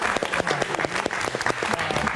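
A studio audience on a late-night live talk show claps for a guest, a moderately dense round of applause with individual hand claps audible, fairly close and without speech.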